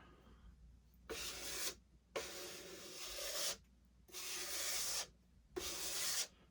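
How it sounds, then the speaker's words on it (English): A scraper drawn across a Monster Clay sculpture in four long rasping strokes, each separated by a brief pause, close and distinct, with no voices. "Take that and use a scraper."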